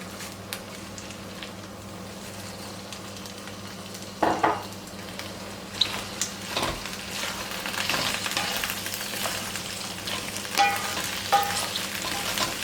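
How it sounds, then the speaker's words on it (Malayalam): Garlic sizzling and frying in hot oil on a high flame for a Kerala-style garlic pickle, with curry leaves added, a steady crackling hiss broken by occasional clinks and scrapes of a stirring spoon. "വെളുത്തുള്ളി എണ്ണയിൽ നന്നായിട്ട് വാടി വരേണ്ടത് വരെ നമ്മൾ ഇളക്കേണ്ടതാണല്ലോ"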